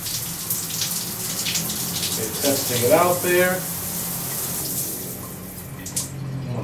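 Water runs steadily from an electric shower head in a Brazilian bathroom, a continuous hiss with a faint hum, while a person speaks briefly over it.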